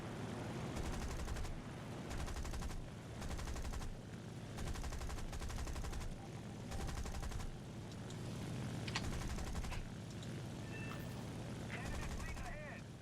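Tail gunner's machine gun fire aboard an aircraft in War Thunder, rattling in repeated bursts of about a second each with short gaps, over a steady engine drone, with a voice speaking faintly.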